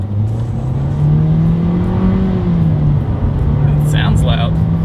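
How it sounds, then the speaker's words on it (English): A 2020 Nissan Kicks pulls away from a complete stop, its engine a steady, fairly loud drone that rises gradually in pitch as it builds speed, with some talk over it. "Let's see how quickly we can get this new 2020 Nissan Kicks up to speed."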